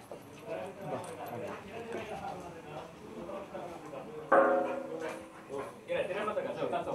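A dog whines and whimpers in thin, high, intermittent cries, with a few yips and soft barks, while people talk nearby throughout.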